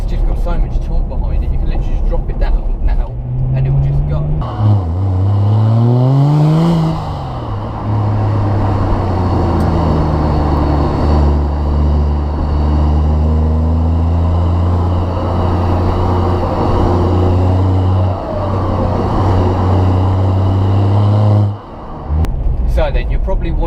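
BMW 330d E46 with a 3-litre diesel engine accelerating hard from inside the cabin, a rising engine roar through gear changes that settles into a loud steady drone, with a person talking over it.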